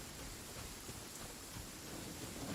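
A rain downpour in the video game Genshin Impact, heard as a faint, steady hiss of falling rain with no talking.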